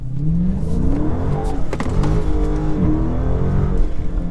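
A 2023 Dodge Charger Scat Pack with a swapped engine revs and pulls through city traffic, a loud continuous close-up engine drone with rising and falling pitch and a couple of brief sharper bursts, no voices.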